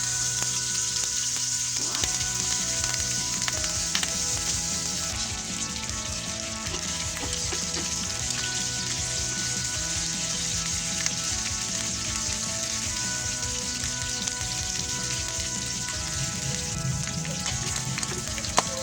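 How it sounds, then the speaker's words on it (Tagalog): Pork belly pan-frying in hot oil in a skillet, a dense, continuous close sizzle with crackling spatter that holds steady throughout, without talk. "ipan-fry lang muna natin yung ating pork belly hanggang"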